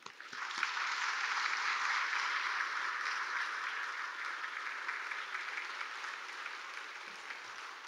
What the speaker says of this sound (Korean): 우리 열렬한 박수로 환영하겠습니다